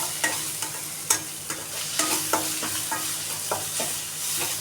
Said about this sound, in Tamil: பழத்தையும் போட்டு நல்லா ஃப்ரை பண்ணணும். தக்காளி பழம் நல்லா வதங்கணும்.